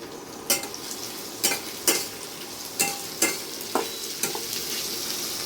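Chopped green chillies and garlic frying in a pan, a constant sizzle punctuated by about eight sharp scraping strokes of a spoon at a roughly even pace.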